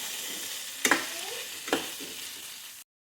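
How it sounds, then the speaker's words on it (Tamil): Ivy gourd sautéing in a hot pan under a constant loud sizzle, broken by two sharp scraping stirs of a spoon before the sound cuts off. "கோவக்காயை நல்லா வதக்கியாச்சு"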